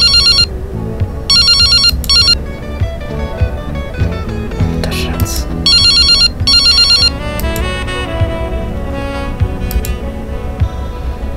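A cell phone ringtone trills in repeated bright bursts of electronic beeps over a loud, busy music bed.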